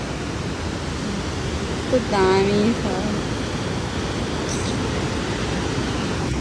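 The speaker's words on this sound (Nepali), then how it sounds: "यो झरनाको नाम के हो? बुङ झरना अरे।" Bung waterfall on the Tilicho trek roars as steady, loud broadband rushing water throughout, with a brief voice speaking over it.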